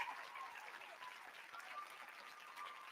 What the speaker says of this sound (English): Just round of applause for everybody